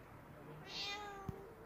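A cat gives a single fairly faint meow indoors, followed by a short soft thump.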